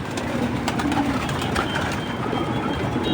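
Soft cooing of domestic breeding pigeons at late-afternoon feeding time in a steady ambient wash, with a faint rumble underneath and no talking.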